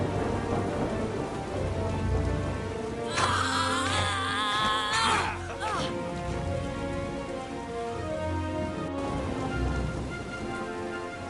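Steady heavy rain pours through a stormy scene with rumbles of thunder, a louder crashing burst in the middle, loud and continuous throughout.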